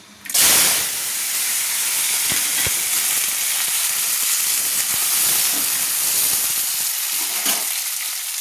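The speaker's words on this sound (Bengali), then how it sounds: "তেলটা আমার গরম হয়ে গেছে, আমি উচ্ছেগুলো তুলে দিলাম" Washed, cut bitter gourd pieces drop into hot oil in a wok, with a sudden loud hiss on entry, then a steady, close, crackling sizzle throughout.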